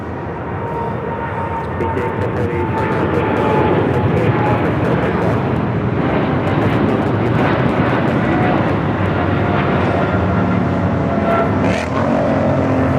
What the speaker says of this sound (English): DHL Flight 51 taking off to Leipzig on the 777 freighter.